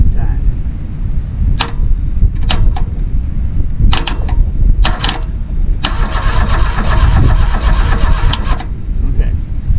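An old Kubota engine cranks over steadily for several seconds with a close, rough, churning rhythm and some sharp clanks mixed in, without catching.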